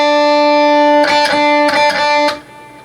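Electric guitar plays a sustained, effects-laden riff, with a held ringing note broken by three short picked accents before it fades, close and alone.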